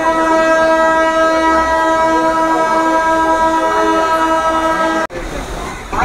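A Malda Town–Sahibganj MEMU train sounds a loud, sustained horn for about five seconds as it starts from Malda Town station platform, then the blast cuts off abruptly, leaving rumbling rail noise nearby.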